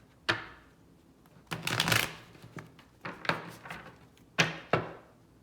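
Tarot cards shuffled close by in short, crisp riffles and taps, several separate bursts with brief quiet gaps between, fairly soft overall.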